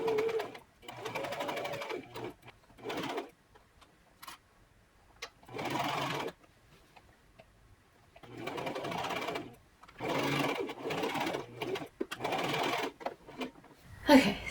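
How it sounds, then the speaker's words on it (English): A sewing machine stitches a dolman sleeve midi dress in several separate runs of fast, steady whirring, broken by short pauses and brief speech. "Now I'm just gonna swoop in, just sew that"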